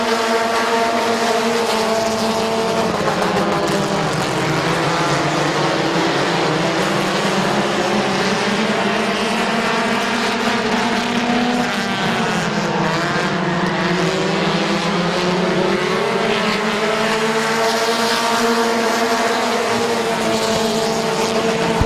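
Race cars roar around Midvale Speedway, several engines overlapping in a loud, continuous drone with pitch rising and falling as the pack runs three wide through a turn.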